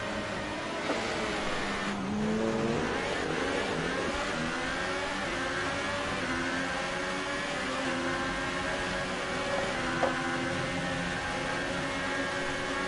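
Race cars in a PS4 racing game rev and whir at mid pitch in a continuous engine drone, the tone rising and falling steadily over the whole stretch.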